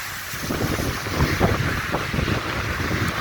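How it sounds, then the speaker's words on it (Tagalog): A river in flood through desert land roars steadily, a broad, churning wash of noise with wind buffeting the microphone, loud and continuous with no voices. "kung gaano kalakas ang agos ng ilog na yan"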